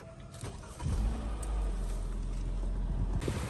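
A car engine turns over and catches after a short crank, then settles into a steady low idle rumble close by, with no speech over it.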